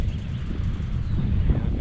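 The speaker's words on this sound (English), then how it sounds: "it's a little windy today" Steady low wind rumble on Lake Vermilion buffeting the microphone, a continuous roar with no clear pauses, fairly loud throughout.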